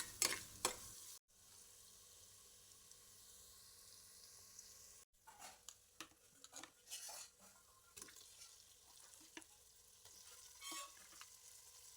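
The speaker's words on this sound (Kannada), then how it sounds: "ಕೋರಿ ಪಾಡ್ದು ಬೇಯ್ಪವನು" Chicken pieces frying in a pan with onion and turmeric for Tulu-style kori sukka, a faint steady sizzle broken by stirring scrapes and clatters, two brief silent gaps, no voices.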